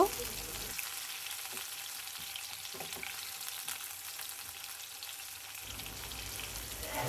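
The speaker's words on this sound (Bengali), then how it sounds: "ফ্রাই প্যানে প্রথমে সয়াবিন তেল দিয়ে দিচ্ছি দিয়ে দিয়েছি পেঁয়াজ পেঁয়াজটা হালকা ভেজে নেব" Onion frying in soybean oil in a frying pan, a steady soft sizzle with faint stirring scrapes, quiet and continuous.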